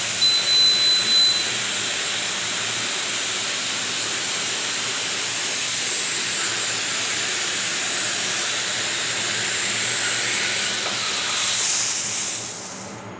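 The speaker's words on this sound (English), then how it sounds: "we'll be ready to spray the activator" A steady, loud aerosol spray of hydro dipping activator onto a benchrest rifle stock hisses continuously for several seconds, close by, then tapers off at the end.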